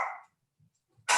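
A dog gives two short, nearby barks, one at the start and one at the end, separated by near silence.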